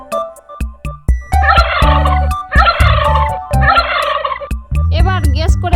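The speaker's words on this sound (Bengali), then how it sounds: "এই আওয়াজটি টার্কি পাখির আওয়াজ।" A turkey gobbles loudly and close by in three long rattling bursts, set among shorter clucks and calls.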